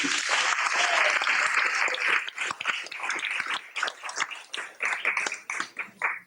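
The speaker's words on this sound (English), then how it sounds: "Give him a big round of applause for this" Audience applause at a devotional gathering starts as a dense burst of clapping, then thins into scattered individual claps that fade out toward the end.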